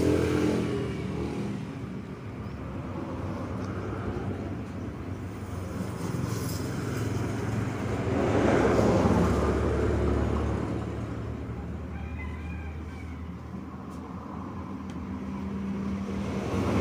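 Busy morning road traffic of cars and motorcycles rumbles past steadily, with engines revving and swelling louder midway, a continuous roadway roar without talk.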